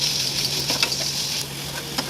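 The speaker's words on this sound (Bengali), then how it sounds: "আমি এটা ভালো করে একটু গরম কড়াই নেড়ে চেড়ে নিচ্ছি।" Chicken pieces with potatoes, green chilli paste and salt are stirred in a hot kadai, giving a soft continuous sizzle with a few faint scraping clicks from the spoon.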